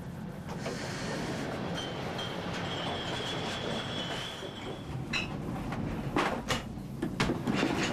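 A passenger train, a Mitropa-served express passing Fulda in 1996, rumbles steadily and loudly throughout, with a faint sustained wheel squeal in the middle and a few sharper clatters and knocks near the end.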